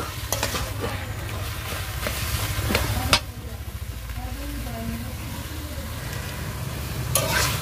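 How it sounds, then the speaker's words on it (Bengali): Taro greens with grated coconut stirred in a pan, a steady scraping and sizzling that runs throughout with a few sharper utensil knocks, close and moderately loud. "এটাকে আমি বেশ কিছুক্ষণ নাড়িয়ে নাড়িয়ে জলটা শুকিয়ে নিচ্ছি"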